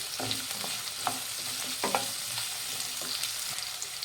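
Radish and green chillies fry in oil with a soft, steady sizzle, while a spatula stirs and taps the pan now and then at a fairly low level.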